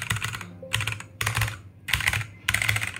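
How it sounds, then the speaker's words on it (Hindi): A Redragon K617 Fizz mechanical keyboard being typed on, with loud, close clacking in four rapid bursts separated by short pauses. "मैं कुछ भी टाइप करता हूँ"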